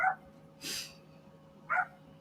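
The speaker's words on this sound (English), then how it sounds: "I just have to say hi to this little barking dog for a second" A small dog gives short, sharp yaps in a shop aisle, a quick bark at the start and another near the end, with a brief noisy burst between them and no talking.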